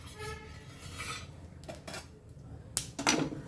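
Roasted pumpkin seeds scraped out of a pan onto a plate, heard as quiet scraping and rattling followed by a few sharper clinks of metal against dishware near the end.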